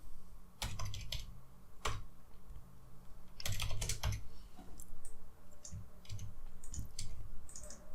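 Someone types on a computer keyboard, entering text at a desk in short, quiet bursts of clicking keys separated by pauses, close and soft, with no voices.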